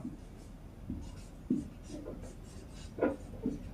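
Pen scratching Bengali shorthand strokes on paper, a series of faint short scrapes and taps in an irregular rhythm, close and quiet.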